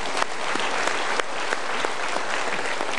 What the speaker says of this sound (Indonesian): Very smart, kita berikan tepuk tangan.